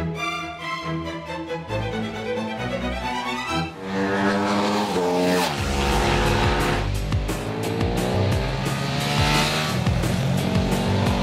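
A Ducati Streetfighter 848 motorcycle ridden on a track in Modena, Italy, its engine howling loud and close without pause, the pitch climbing and dropping as it revs through the gears, with no voices.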